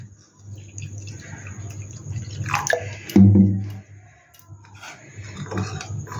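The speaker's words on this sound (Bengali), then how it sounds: "এবার জল দেব।" Water is poured into a pan while hilsa curry is being cooked, giving a short, close splash and gurgle in the middle, with softer clinks and trickling around it.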